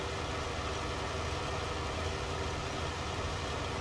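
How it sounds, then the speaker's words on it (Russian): A potato harvester combine in Farming Simulator 19 gives off a steady, droning engine idle with a constant low rumble and even loudness throughout, with no voices over it. "Опять-таки, разворачиваем картофелеуборочный комбайн."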